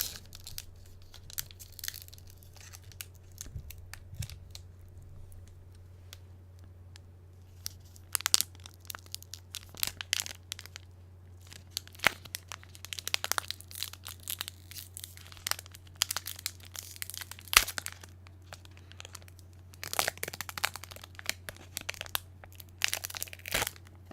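Crinkly foil wrapper of a Magic: The Gathering Dragon's Maze booster pack being torn open up close, a long series of sharp crackling rips and crumples over a steady low hum, no talking.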